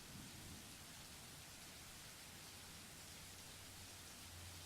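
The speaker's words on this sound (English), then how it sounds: "It's raining, it's dark, and it's thundering." Steady, dense rain and a low rolling rumble of thunder fill a dark, stormy scene in a story video game, continuous and evenly loud throughout, with no voices.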